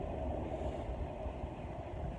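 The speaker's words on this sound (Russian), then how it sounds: "есть поезда, железная дорога. по соседству с железной дорогой." Trains rumble along a railroad beside a small industrial dump in Chicago, a steady, loud low roar that continues without a break and with no voices.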